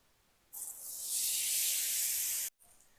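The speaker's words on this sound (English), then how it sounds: "Let's sear these off." A reverse-seared ribeye steak hits a ripping-hot Blackstone griddle, setting off a sudden, loud, steady hiss that holds for about two seconds and then cuts off sharply.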